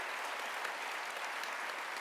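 Audience applause at a live debate between Sam Harris and Chris Hedges, a steady wash of many hands clapping at moderate distance, even and sustained with no voices over it.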